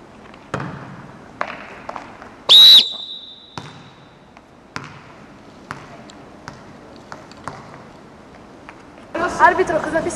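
A referee's whistle blows once, short and sharp, during a volleyball match, set among scattered thumps and squeaks in an indoor hall.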